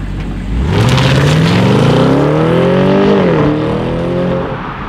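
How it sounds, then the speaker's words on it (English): A 2020 BMW 750i xDrive accelerates hard, its engine note rising loud and close through the gears with a brief shift dip before climbing again, no voices present. "This acceleration is absolutely amazing, possibly because of that full-time xDrive all-wheel drive system, but there was no spinning."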